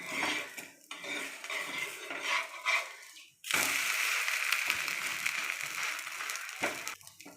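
A drumstick-leaf (murungai keerai) dosa is flipped on a hot griddle. Metal spatula scrapes and clatters sound close against a bright, continuous sizzle, with a brief lull midway before the frying hiss returns, louder.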